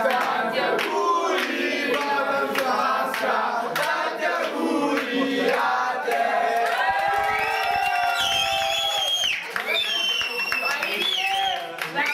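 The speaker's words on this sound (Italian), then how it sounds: "Tanti applausi" Party crowd at an eighteenth birthday celebration cheering, shouting and clapping continuously and loudly, with voices mixed throughout and some higher shouts near the end.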